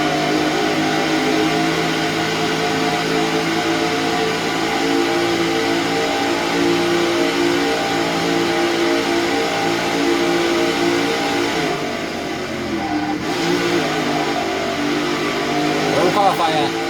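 A race car engine in the NASCAR 08 video game, on the Modifieds series at Boat or Raceway Park, drones steadily and loudly at high revs for most of the stretch, then dips briefly and rises again near the end.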